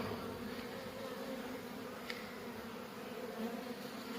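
Steady, soft buzzing of many Buckfast honey bees being shaken off a frame, a close continuous drone with no voices.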